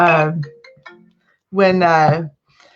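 A phone ringtone goes off during a video call, two bright melodic bursts with a silent gap between them, close and fairly loud.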